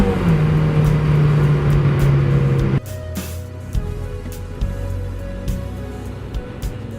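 A Mazda Miata with a limited slip differential, its engine droning steadily under load, then dropping off abruptly partway through to a quieter low rumble, heard from inside the car.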